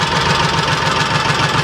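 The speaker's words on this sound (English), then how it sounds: "at 840 RPM, engine sounds really good" A Kawasaki Mule 3010 utility vehicle engine idles steadily at about 840 RPM after carburetor installation and adjustment, a close, even low rumble with a fast regular pulse and no talk.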